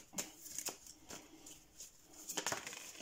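Tarot cards are shuffled and handled, with several soft papery slides and flicks spread across a few seconds, close and fairly quiet.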